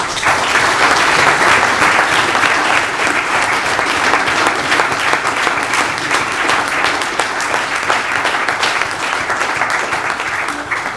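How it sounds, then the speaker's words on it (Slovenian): Loud, sustained applause from a hall audience at a Slovenian science awards ceremony honouring the year's Preglove award winners, an even wash of clapping that continues for about eleven seconds without voices. "vsi letošnji nagrajenci si gotovo zaslužijo še en vaš glasen in ponosen aplavz"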